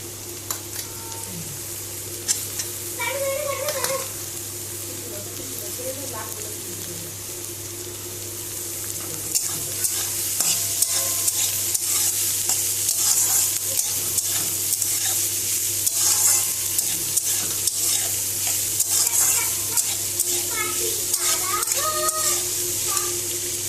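Steady sizzling in a pan with scraping and stirring strokes as capsicum is added to stir-frying vegetables, growing louder partway through, over a constant low hum.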